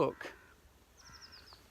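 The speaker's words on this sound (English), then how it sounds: "So I was hearing a bird over here." A bird calls outdoors with a short run of quick, descending chirps, fairly faint and distant, following a brief burst of speech near the start.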